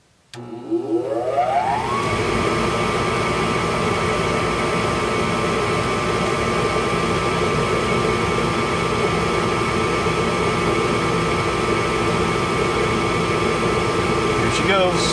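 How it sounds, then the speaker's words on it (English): A home furnace that keeps shutting off and cycling starts up and runs with a steady, loud blowing roar and a constant hum, alone with no talk. "I'll give it a few minutes and see how the furnace sounds"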